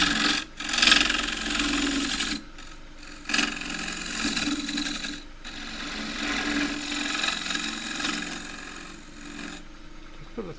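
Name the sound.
bowl scraper cutting pear wood on a lathe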